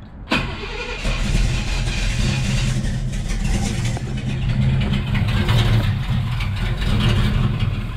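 1954 Ford F100 fitted with a Pontiac 400 V8, after sitting for twelve years, cranks and fires up, then runs with a loud, steady rumble and slight unevenness, close by, with no talking.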